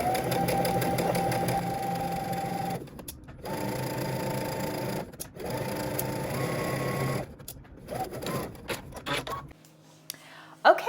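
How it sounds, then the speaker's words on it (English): A serger sews along the top of a dress bodice in several bursts of rapid, whirring mechanical stitching separated by short pauses, close and steady, ending with quieter handling noise. "I'm gonna stitch at the very top of my serger"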